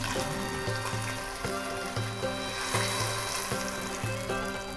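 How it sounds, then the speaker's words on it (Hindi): Hot ghee with four or five cloves, poured as a tempering into sheer khurma, sizzles and crackles steadily and fairly close, with regular clinks of a spoon against the pot. "अब हम ये तड़का लगा देंगे।"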